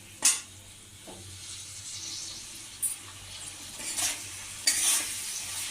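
Paneer being stirred in a pan with tomato, chili and soy sauce, a soft steady sizzle under scraping strokes, with a few sharper utensil clinks against the pan.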